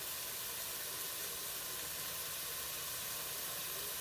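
Cranberry rosemary pork chops sizzling in a pan, a steady soft hiss of frying that continues evenly without any talking.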